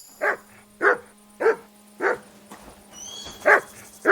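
Dog barking in the medieval game Kingdom Come: Deliverance II: six evenly spaced, loud, close barks in a steady rhythm over a faint background hum, with a brief pause before the last ones.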